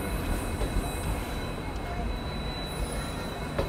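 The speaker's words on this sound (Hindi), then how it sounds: "शालीमार यानी हावड़ा से आने वाली ओखा तक जाने वाली एक्सप्रेस हमें यहाँ ओवरटेक कर रही है।" Shalimar–Okha Express passing on an Indian railway line, a loud steady rumble of rolling wheels and rail noise with faint squeals, heard close throughout without a break.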